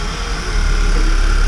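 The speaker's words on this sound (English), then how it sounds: "go start this frickin' race car up" A Volkswagen Mk6 race car with a short shifter fitted starts up and settles into a steady, loud engine rumble, close by, with the sound swelling about halfway through and holding, with no talking.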